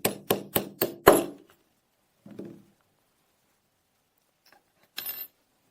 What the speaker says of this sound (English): I place the drift pin on top of the retaining pin here and tap it out